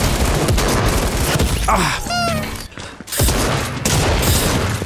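Rapid gunshots ring out in Fortnite Creative during a one-on-one match: loud bursts of firing and crackling effects, with a brief break in the middle and a short vocal exclamation.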